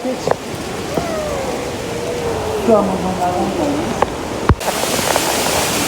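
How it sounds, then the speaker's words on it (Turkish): Steady hiss of a small waterfall at a zoo, broad rushing water running continuously beneath people talking nearby. "Küçük şelale var."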